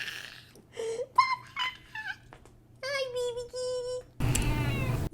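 A house cat meows several times up close, its rising and falling cries clear and distinct, while someone talks softly to it between and over the calls; a burst of rustling noise ends the moment.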